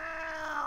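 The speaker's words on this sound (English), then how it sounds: "And of course, we have the classic meows." A single drawn-out cat meow from the World of Tanks game, clear and close with a rising tone at the end, alone with no talk.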